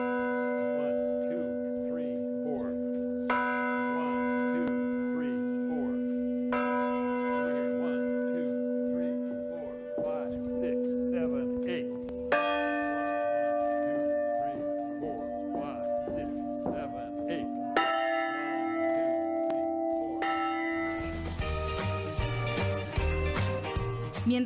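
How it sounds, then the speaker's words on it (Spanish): Church bells at a mission, struck by hand in sets of three strokes on each bell in turn, ring out loud and sustained, their tones overlapping and shifting pitch as different bells are played, building to a dense clanging cluster at the end. "Tengo que tocar 3 campanazos cada 4 segundos en cada campana."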